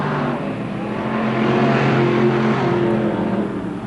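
A Ford-powered modified race car roars around an oval track at a 1988 heat race, a loud continuous engine drone that swells slightly as it passes.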